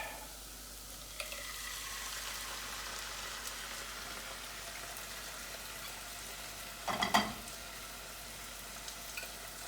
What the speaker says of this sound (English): give this another little toss, and in goes now the crushed tomatoes